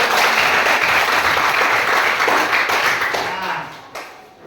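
A classroom of students applauds after a group presentation, loud, dense clapping close by with some voices mixed in, tapering off over the last second.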